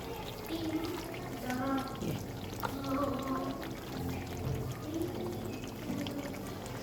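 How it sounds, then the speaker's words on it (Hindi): Cream is poured into chicken white korma over low heat with a soft, continuous liquid pour, partly under someone speaking. "ये मैं 3 चमचों के करीब आँच को स्लो करके ये क्रीम डाल रही हूँ"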